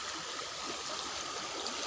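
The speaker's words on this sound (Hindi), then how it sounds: "ये पानी का बहाव, इससे अंदाज़ा कीजिए आप कि ये सड़क को काट दिया साहब" Steady rush of a stream pouring across and cutting away a road near Kagaznagar, a continuous broadband wash of flowing water with no pauses, close and fairly loud throughout.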